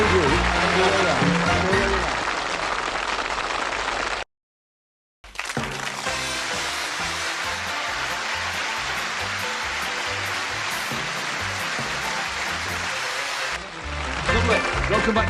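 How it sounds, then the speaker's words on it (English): Studio audience applause on a 1981 television game show, a sustained wash of clapping that breaks briefly and then resumes loudly for a long stretch, with a voice at the end. "Give them a nice warm round of applause."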